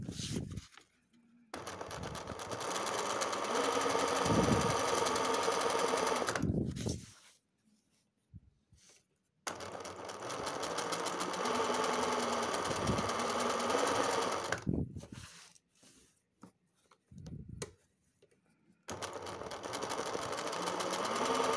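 A sewing machine stitches a festonê (blanket-stitch) edge without a hoop, running in three long, loud, close bursts of rapid stitching with short quiet pauses and handling noises between them.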